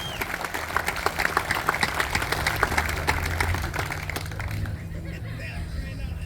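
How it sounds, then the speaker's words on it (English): Crowd applause and cheering for the National Patriots at an outdoor 2022 Patriot Tour kickoff ceremony, steady clapping for several seconds that fades toward the end. "if we can have one more round of applause and cheer for the National Patriots"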